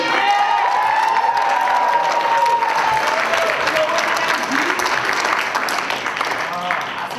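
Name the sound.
audience applause for a poet at a poetry slam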